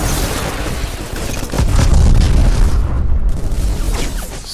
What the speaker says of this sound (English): Explosions are good.